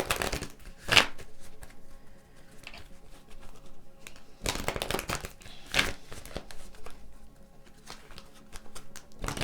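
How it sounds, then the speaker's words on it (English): A deck of moon oracle cards is shuffled up close in several quick riffling bursts with quieter soft handling between them, and there is no talking. "Let's get some moon cards for you."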